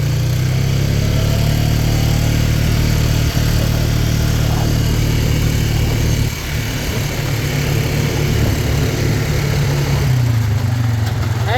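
A farm tractor runs steadily while baling hay, its engine drone loud and continuous with a low rumble, a brief dip midway, and no talking.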